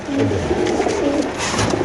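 Caged pigeons at a sale cooing in low, rolling murmurs, several birds overlapping continuously at close range against a busy background.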